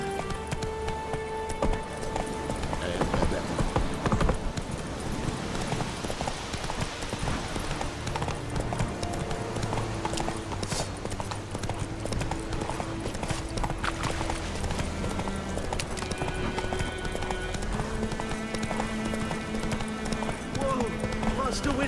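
A horse gallops in The Witcher 3 with steady, rapid clip-clop hoofbeats throughout, under game music and ambient effects.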